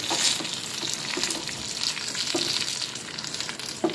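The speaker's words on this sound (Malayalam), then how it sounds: "എടുത്തു വെച്ചിരിക്കുന്ന കറിയിലേക്ക് ഈ കടുക് താളിച്ച് നമ്മളിടുകയാണ്" Tempered mustard seeds in hot oil are tipped into a buttermilk curry (nadan pulissery) and stirred, giving a steady close sizzle with a few scraping stirs and no talking.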